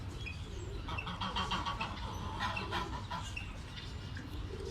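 Pekin ducks on a farm calling and clucking together, a steady busy chorus of quacking bird voices close by with constant background noise.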